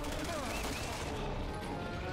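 Dense, rapid gunfire from the video game Resident Evil 6 fills the clip as a loud, continuous burst of shots with no gaps.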